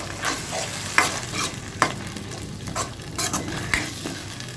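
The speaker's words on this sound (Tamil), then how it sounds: "இஞ்சி பூண்டு பேஸ்ட்டு சேர்த்துக்குவோம் சேர்த்துட்டு நல்லா வதக்கிடுவோம்" Ginger-garlic paste and tomatoes sautéing in oil in a pan, a steady close sizzle broken by repeated scraping strokes of a spatula stirring the mixture, with no voices.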